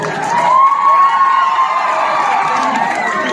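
A live crowd at an Assamese bhaona comedy show by K K Mohan cheers and shouts loudly throughout, with a high, drawn-out yell riding over the din.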